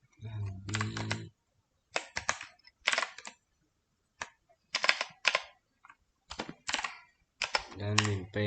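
Keys on a computer keyboard are tapped in short clustered bursts while a password is entered during a MySQL database login, with a person talking intermittently between and over the clicks.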